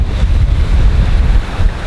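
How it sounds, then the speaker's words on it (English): Strong wind roars at a dog beach and buffets the microphone in a steady, loud low rumble with surf-like wash, with no other sounds. "If you can hear me because of all the wind in the background"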